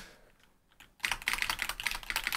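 Rapid, forceful typing on a computer keyboard: dense clusters of sharp, close key clacks in an uneven burst rhythm, following a second of near quiet.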